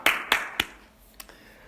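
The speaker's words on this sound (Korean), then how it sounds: "다시 한번 같이 함께 하나님께 영광의 박수 올려드리겠습니다" A few scattered, sharp hand claps ring out at a church worship service, three close together and then two softer ones, in a quiet, reverberant room.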